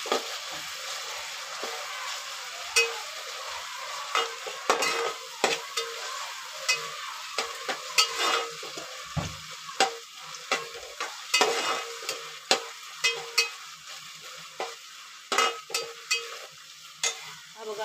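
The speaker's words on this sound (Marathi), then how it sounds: "परतून घ्यायची कांद्यासोबत" Onions with garlic paste sautéing in a frying pan give a steady close sizzle, broken by frequent sharp scrapes and taps of a spatula against the pan, with no talking throughout.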